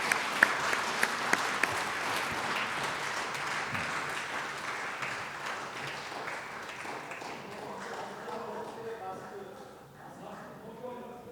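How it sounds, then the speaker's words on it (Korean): Applause fills the hall at a university president's inauguration ceremony at Hanshin University, a dense wash of clapping that starts strong and gradually tapers off toward the end. "박수로 축하해 주시기를 바랍니다"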